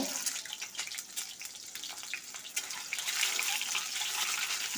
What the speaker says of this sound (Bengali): তেল গরম হয়ে গেছে এবার ডিমগুলো হালকা করে ভেজে নেব